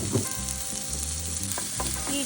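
Onion frying in a little oil in a pan with meatballs and aubergine, a steady close sizzle with occasional stirring scrapes and crackles throughout.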